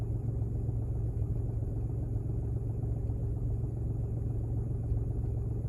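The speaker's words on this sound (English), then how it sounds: "I want to get a sense for what the kind of decibel level is inside my Jeep at idle" A Jeep Cherokee XJ engine idles, heard from inside the cabin as a low, steady rumble that stays even and moderately quiet for the whole stretch, with no one talking.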